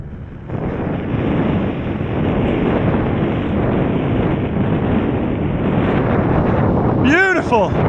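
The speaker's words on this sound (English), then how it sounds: "It's just too windy." Strong wind on a snowy mountain roars across the microphone in a steady loud rush, with a brief tonal whistle or voice near the end.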